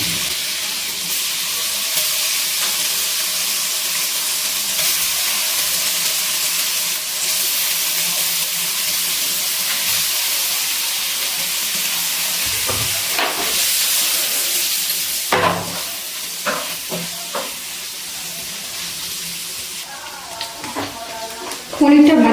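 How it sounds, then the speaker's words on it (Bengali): Small cubes of paneer fry in melted butter in a pan with a steady, close sizzle and hiss. Scattered stirring knocks and scrapes rise near the end, and a person talks at times. "এবার এই বাটারের মধ্যে ছোটো ছোটো করে কেটে রাখা পনিরগুলো দিয়ে দিচ্ছি।"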